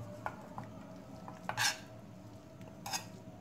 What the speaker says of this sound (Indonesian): Kita masukkan ikan teri. Kita aduk-aduk.